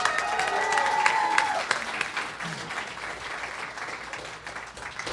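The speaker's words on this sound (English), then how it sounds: "Give her a round of applause" An audience at a fan convention costume contest applauds a contestant dressed as a pirate character, dense clapping strongest at first with a brief whistle, then thinning out.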